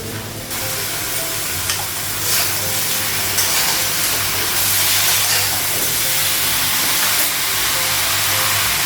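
Vegetables fry in a spice mix in a pan, giving a loud, close, continuous hiss and sizzle with the texture of stirring throughout.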